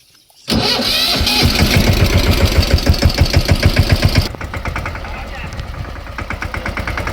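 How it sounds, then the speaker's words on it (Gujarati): A tractor engine cranks and catches, chugging loudly with a fast rhythmic knock, then settles into a lower, steady idle. "હાલો હવે ટ્રેક્ટર ચાલુ કરો"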